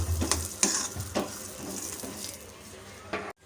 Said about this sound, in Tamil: இந்த வேர்க்கடலை வந்து நல்லா வறுபடணும்